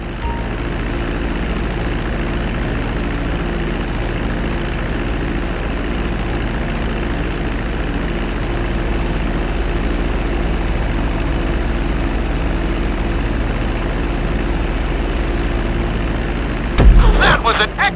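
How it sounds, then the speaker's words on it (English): Airplane taxiing on a runway in the video game GTA V, heard as a steady, loud engine drone with a low hum that holds evenly throughout, ending with a brief burst of noise. "Now let's get the plane off the runway. Taxi over to the marked area and come to a complete stop."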